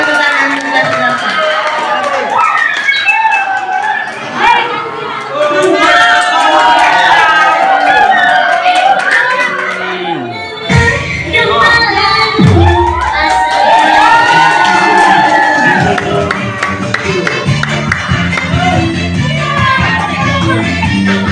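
Audience at a junior high school farewell ceremony claps and cheers for the grade 8 class, a loud, sustained crowd roar with shouting children and busy clapping across the whole stretch.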